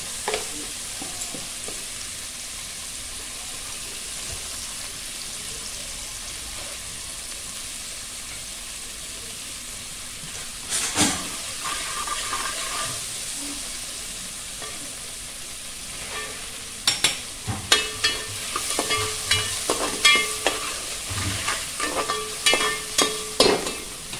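Onion and tomato sautéing in a pan for a spicy crab curry, a faint steady sizzle that grows livelier later with repeated stirring scrapes and clinks near the end, no talking.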